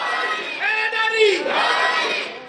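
Crowd of children loudly chanting a religious slogan together at a gathering, a sustained massed shout of voices rising and swelling for a couple of seconds.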